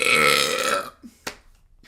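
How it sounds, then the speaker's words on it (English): A loud, long, rasping burp from a female streamer fills the first second, followed by a short grunt and a small hiccup-like noise, close to the microphone. "Why do you burp this much?"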